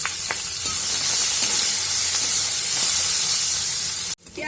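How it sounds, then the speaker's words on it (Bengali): A chopped medium-size onion sizzles and fries steadily in a pan with turmeric for a red lentil dal, a close, continuous hiss that cuts off abruptly near the end. "পেঁয়াজটাকে ভালো মতন ভেজে নেব।"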